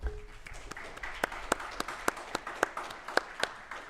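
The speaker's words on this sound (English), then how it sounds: "give them a round of applause, please" Applause for the 2025 interactive media production class at a Bel Air High School capstone night: scattered, moderately faint clapping from a small audience, with distinct individual claps standing out over a soft steady patter.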